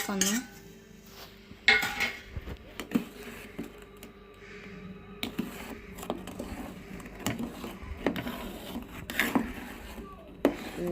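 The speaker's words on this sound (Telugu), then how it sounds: "బెల్లం కరిగేదాకా అట్ట తిప్పుకుందాం" A pot of flour batter with jaggery is stirred, producing repeated clinking and scraping of a utensil against the pot with irregular knocks, up close, with faint speech in the background.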